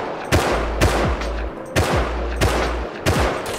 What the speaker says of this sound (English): They're shooting from the trees.